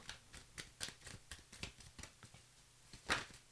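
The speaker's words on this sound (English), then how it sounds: "Give it a good old shuffle." Tarot cards are shuffled softly at close range, with quick light flicks and taps in an uneven patter and one sharper snap near the end.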